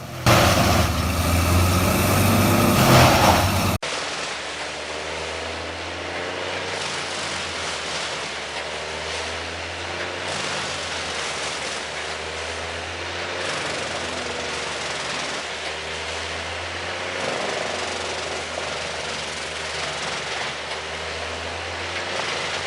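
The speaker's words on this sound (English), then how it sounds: "The engine roars to life, signaling that the high-powered wood chipper is ready for action." A high-powered wood chipper engine runs with a loud, steady mechanical drone and low rumble, preceded by a brief, harsher burst of noise in the opening seconds; no one speaks.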